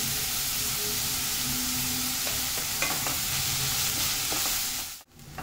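Chopped onions fry in oil with a pinch of salt, giving a steady, loud broadband sizzle with occasional stirring scrapes, then a brief dip near the end as the sizzle cuts out for a moment.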